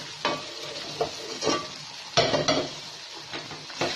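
Okra (bhindi) being stirred with fried masala in a pan at close range, with repeated scraping strokes over a soft sizzle, no talking.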